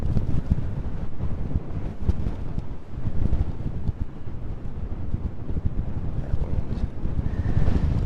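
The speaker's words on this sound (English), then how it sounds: "That wind is nasty." Strong outdoor wind buffeting a camera microphone at a landscape photography spot, a loud continuous low rumble with gusting swells throughout and no talk.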